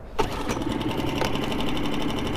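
A Mercury 3.5 HP outboard motor kicks into life on the first pull without choke and settles into a steady, rapid mechanical chatter, running loud and close with a dense rhythmic clatter.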